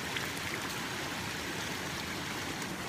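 Cold stream water rushes and flows in a steady, even wash of noise, constant throughout with no voices over it.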